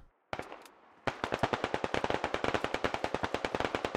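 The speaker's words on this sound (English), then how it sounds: "He's suppressing with a machine pistol" A machine pistol lays down suppressing fire in the Squad video game, a single short burst followed after a pause by a long, rapid string of sharp automatic shots, loud and close, with no talking.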